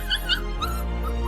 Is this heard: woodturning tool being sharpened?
no